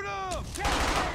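Gunfire in a World War II battle from Brothers in Arms Hell's Highway, sharp close shots and a burst of rattling fire cutting in after a shouted voice, loud and dense.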